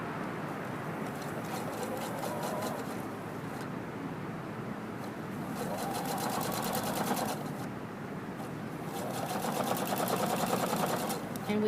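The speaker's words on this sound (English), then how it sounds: "I'll begin to sew again with 1/4 inch." A sewing machine stitches quilt binding in bursts, its rapid whirring needle rising and falling across several runs, with a person talking underneath.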